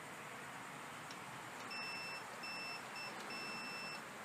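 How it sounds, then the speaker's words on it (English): A continuity tester beeps in a series of steady electronic tones, probing from a riding lawn mower's battery ground terminal to a mounting screw while a bad solenoid on a Bolens mower is replaced; the beeps are faint over a loud hiss. "I get a beep."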